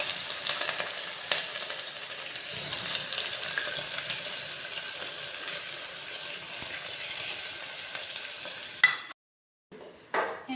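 Onions with cardamom, cinnamon, cloves, nutmeg and bay leaf fry in refined oil for pulao, giving a steady, close sizzle that cuts out abruptly and then returns in brief bursts.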